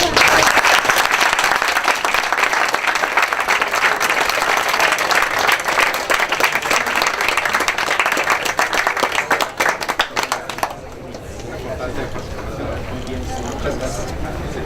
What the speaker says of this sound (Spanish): pues démosle un fuerte aplauso, por favor